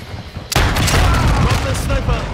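Gunfire in Call of Duty: Modern Warfare II: a sudden loud burst of rapid shots that becomes a dense, continuous crackle of fire, close and intense, with voices mixed in.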